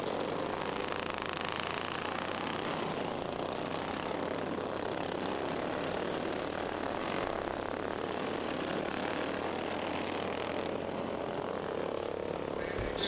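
Racing lawn mower engines, which can be overhead valve, opposed twin or flathead, drone steadily at a championship race, a continuous mid-distance buzz that holds without a break for about thirteen seconds.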